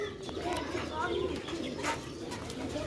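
Old Sialkoti rooftop rocket silver pigeons coo softly and repeatedly, faint and somewhat distant against a quiet background hiss.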